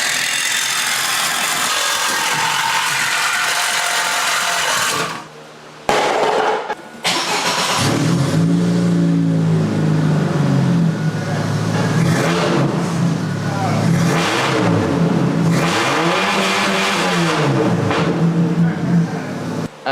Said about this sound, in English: I'm just gonna cut the muffler off and see how bad it sounds like that